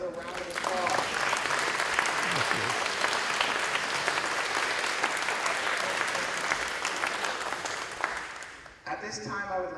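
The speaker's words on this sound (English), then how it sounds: "I think we will give another round of applause" A school-history event audience breaks into a sustained round of applause lasting most of several seconds, dense and steady clapping that fades near the end as a voice resumes speaking.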